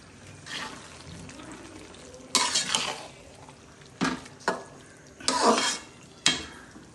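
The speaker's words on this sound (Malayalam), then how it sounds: "നന്നായി നമുക്ക് ഇളക്കാം" Crushed ginger, garlic and green chili stirred in a pot for beef biryani, heard as a few separate bursts of scraping and clinking, moderately close, between quieter stretches of low background.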